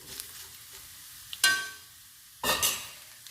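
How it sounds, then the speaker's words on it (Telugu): Garlic and curry leaves frying in hot oil for a dal tempering, with two bright bursts of sizzle and stirring that rise sharply then settle back to a quieter hiss. "కరివేపాకు కూడా ఫ్రై అవ్వాలి."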